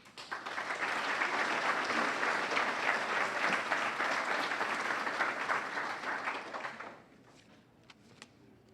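A graduation audience at the 2012 South St. Paul Community Learning Center ceremony claps steadily as a speaker is welcomed to the stage, a dense wash of applause lasting about seven seconds before fading to a few scattered claps.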